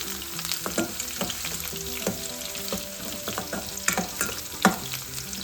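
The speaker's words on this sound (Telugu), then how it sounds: "కచ్చాపచ్చగా దంచుకున్న తెల్లుల్లిపాయలు వేసుకుందాం. బాగా ఫ్రై అవ్వాలండి." Mustard seeds, cumin and crushed garlic frying in hot oil crackle and sizzle up close, with repeated stirring taps against the pan and no voices.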